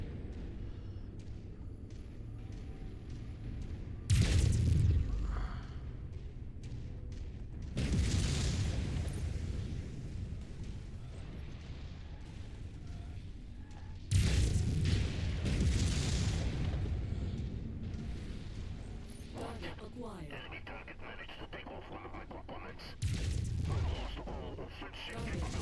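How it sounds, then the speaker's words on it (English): Tank explosions in the Mechwarrior 5: Mercenaries video game, several heavy booming blasts spaced across the clip, each rumbling and fading, with gameplay noise between them. "explosion killed the tank"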